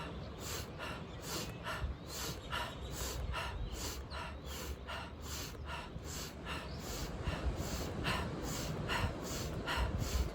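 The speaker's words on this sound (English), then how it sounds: "we're gonna work the inhale through the nose, letting the exhale happen naturally through the mouth" A person doing a breathing exercise sniffs sharply in through the nose and exhales through the mouth in a rapid, regular rhythm of close, loud breaths repeating throughout.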